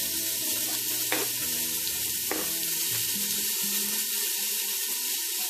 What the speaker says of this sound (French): Je commence par chauffer 2-3 cuillères de l'huile. Je mets les oignons finement coupés.